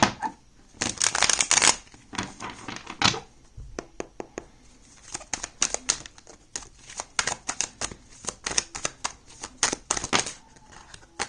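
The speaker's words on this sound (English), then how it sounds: "I feel like shuffling it one more time." Tarot cards are shuffled repeatedly up close, with bursts of crisp riffling and soft slapping that come in uneven, quick spurts.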